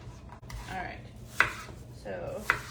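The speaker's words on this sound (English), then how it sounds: "so slicing up my apple" A knife cuts through an apple on a board, with two crisp chops standing out among softer slicing and scraping sounds, close and quiet with no talking.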